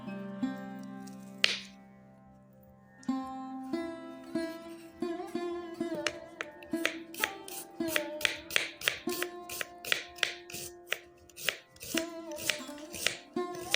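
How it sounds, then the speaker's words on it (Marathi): Onions being chopped with a knife on a board at home for egg tawa masala, a run of crisp, close, fairly quiet chops that speed into a steady rapid rhythm after a few slower cuts. "अशा प्रकारे सर्व कांदा कटिंग करून घ्यायचा आहे बघू शकता किती मस्त कटिंग होत आहे"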